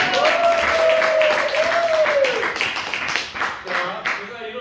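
Concert audience clapping along in a steady rhythmic beat at a Jeju folk band's live show, dense and fairly loud, with a sustained sung or hummed vocal line over the first half.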